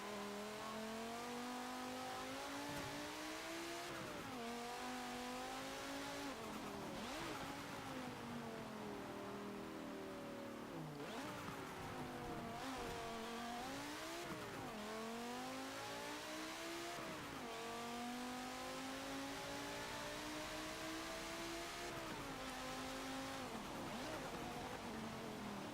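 A 2017 Volvo XC90 R-Design races in Forza Motorsport 7, its engine droning steadily and rising through repeated rev climbs and gear shifts, with faint tire squeal. The engine stays loud and continuous and no one speaks.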